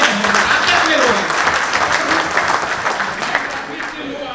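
Audience applause at a gathering of an Indian small-scale paint association, a loud, sustained burst of clapping that slowly fades toward the end, with voices faintly mixed in.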